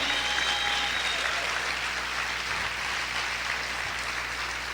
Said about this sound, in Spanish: A ver, aplaude fuerte al Señor.